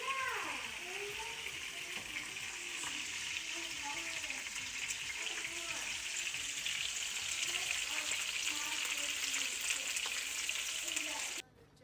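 Shrimp kalounji frying in a pan, a steady broad sizzle with faint stirring scrapes that runs evenly for about eleven seconds before cutting off abruptly near the end.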